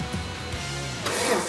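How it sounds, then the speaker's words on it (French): A Renault Safrane BiTurbo six-cylinder engine cranks after fresh spark plugs are fitted, then catches and rises into a louder, rougher idle near the end of the short burst. "Et David peut enfin faire craquer le moteur"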